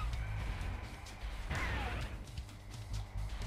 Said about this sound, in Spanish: puedo romper los cristales